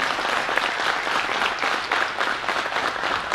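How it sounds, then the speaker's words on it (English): A large audience applauds steadily, a dense continuous patter of many hands clapping throughout with no talking. "I think you should clap for him."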